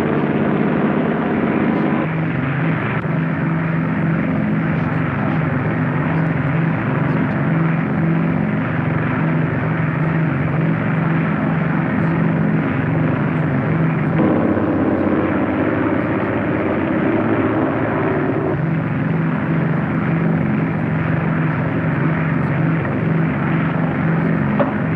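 A propeller aircraft makes a radar-guided approach to land on the glide path, its loud, steady engine drone filling the whole stretch.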